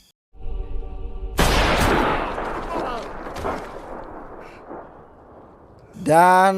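A loud gunshot blast from a film erupts after a brief quiet, followed by rumbling echoes and scattered sharper reports, then a sudden tonal sound at the end.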